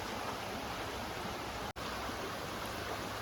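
Water of a rocky forest stream in the Vagamon pine forest rushes continuously over stones, a dense, even roar heard up close with one brief gap near the middle.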